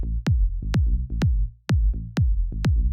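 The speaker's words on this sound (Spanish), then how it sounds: "con el kick y el bajo. La parte del low end que suena así" Kick drum and bass low end from a Latin tech house track: punchy, booming kicks in a steady four-on-the-floor pulse, each followed by a deep sustained bass note, loud and alone.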